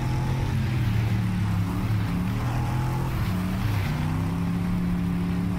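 A car engine in Next Car Game runs at a steady hum with a slight pitch dip and recovery partway through, loud and continuous with no talking.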